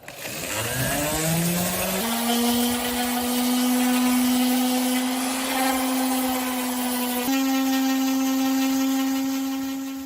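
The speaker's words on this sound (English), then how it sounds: "I'm going to use my sander, my orbital sander. It's got a 120 grit on it to sand down this piece" An orbital sander fitted with 120-grit paper spins up and runs continuously while sanding a mid-century modern chair, a loud steady whine with a slight pitch shift partway through and no talking.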